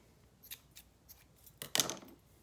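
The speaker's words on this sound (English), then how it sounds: "the first thing we want to do is cut a short piece of yarn" Scissors snip a short length of green yarn for a pom-pom, a few faint, spaced clicks followed by one louder, closer crisp cut near the end.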